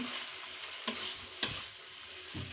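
Pointed gourd pieces hiss and sizzle in hot oil and spice masala, with a steady frying crackle broken by a few louder scrapes of a spatula stirring the pan, close up and without talk.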